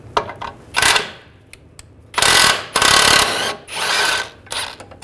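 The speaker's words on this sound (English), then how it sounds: "I'm going to use an 18mm socket on this bolt," A ratchet turns an 18mm socket to remove a rear suspension bolt on a 2006-2010 BMW 550i, with several bursts of rapid close clicking broken by short pauses and faint knocks.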